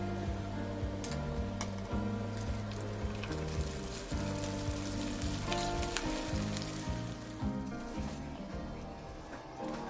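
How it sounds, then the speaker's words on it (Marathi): Vada for fasting, made without sabudana, deep-fried in oil, giving a steady, dense sizzle throughout, with music-like tonal layers running beneath it. "याच पद्धतीने आपण उरलेले सर्व वडे तळून घेणार आहे"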